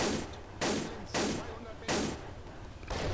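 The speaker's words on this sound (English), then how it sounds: "Exchange of fire going on now" Repeated gunfire bursts in a World War II setting, Russian troops ahead and an MP44 assault rifle in use, crack out four times at uneven intervals, loud and close over a constant background rumble.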